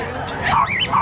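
A big guard dog at a pet shop in a market gives a few short barks and yips close by, mixed with people talking over it.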